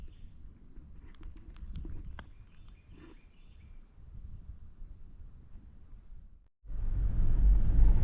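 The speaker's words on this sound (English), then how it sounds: "I've been driving for a little bit now, probably like 1 mile down this road" A car rolls along an old brick road, the Dixie Highway in Flagler County, Florida, with a steady low rumble and faint rattles. After a brief drop the rumble returns louder and rougher.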